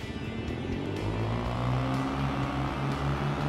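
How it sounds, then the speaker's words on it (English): A 350 dirt bike engine running in a game, a steady droning engine note with rising and falling revs, continuous and close with no talking. "That is the sound of a real dirt bike right there."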